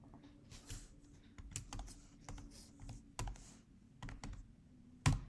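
Keys clatter on a computer keyboard while Go code is typed, a quiet, close run of irregular taps with a few sharper, louder strikes and one hard keystroke near the end, with no voices.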